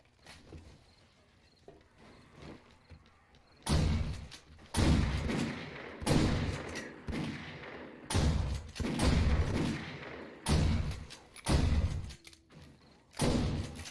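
A shotgun fires in 7 Days to Die, a series of loud, booming blasts spaced a second or two apart after a quieter opening, each shot ringing out and decaying.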